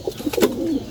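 A pigeon coos in a loft: one short, soft, throaty burbling call, close and clear, with no voices.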